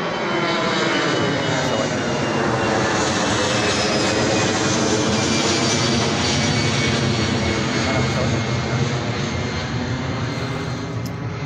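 A loud, steady roar of an airplane engine droning continuously overhead, broad and rumbling, with no pause throughout.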